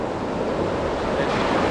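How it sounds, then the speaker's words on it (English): Strong wind roars over the sea at a Rio beach, with waves surging beneath it, making a loud, continuous gusty rush with no voices. "the wind is so strong"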